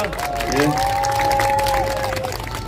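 Audience at a security rally clapping and cheering, a broad crowd noise under amplified speech with a sustained tone running through it.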